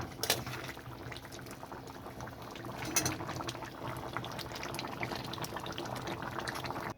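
A shrimp curry with pumpkin, potato and drumsticks simmers in a pan, giving a steady, close bubbling and sizzling hiss that runs throughout with a brief louder clink near the middle.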